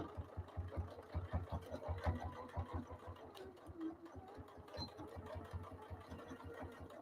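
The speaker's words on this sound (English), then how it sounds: "I like to do back stitching." A sewing machine back stitching a quilt runs in a fast, even train of mechanical stitching pulses, quiet and close, with a brief slowdown midway.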